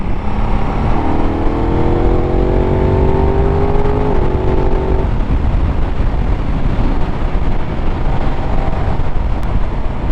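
A 2024 Aprilia RS660 Extrema motorcycle accelerating on the throttle during a test ride, a loud engine note rising in pitch through a gear then dropping back into steady road and wind noise.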